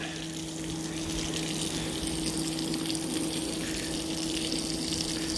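Rinse water pumped out of a wool rug during urine treatment in a carpet cleaning shop, a steady gushing, pumping flow with a constant motor hum, close and continuous throughout.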